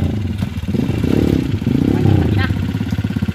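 Enduro motorcycle running on a forest trail at the Mt. Mayapay track, its mid-pitched engine droning steadily and close by while people talk over it throughout.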